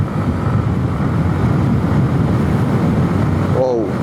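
A Yamaha MT-15 V2 motorcycle cruising in sixth gear on an open road, a loud, continuous engine drone buried in heavy wind rush, steady throughout with a brief change near the end.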